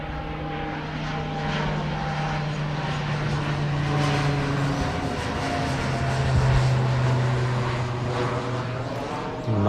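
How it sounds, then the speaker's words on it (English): A propeller airplane passes overhead in Tokyo, a loud steady engine drone with a sustained hum that swells slightly midway and continues throughout, heard alone without talk. "Oh, got the airplane coming."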